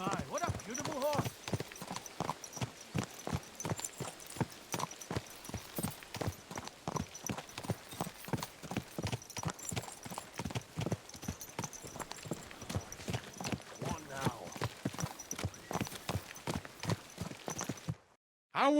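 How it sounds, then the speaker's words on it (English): Horse hooves clip-clop in a steady, rapid rhythm across most of the stretch in Kingdom Come: Deliverance, close and prominent with voices speaking over them, ending in a brief silence. "My, what a beautiful horse."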